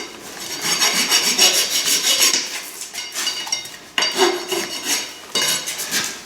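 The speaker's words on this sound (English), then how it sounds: "Wire brush." A wire brush scrubs the bottom of a trimmed horse hoof in rough, rasping back-and-forth strokes that come in close bursts with brief pauses between them.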